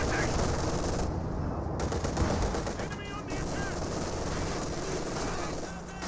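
Sustained bursts of machine-gun fire from an MG bunker under siege in the Company of Heroes 2 video game, rattling continuously and densely with overlapping gunfire and battle noise throughout.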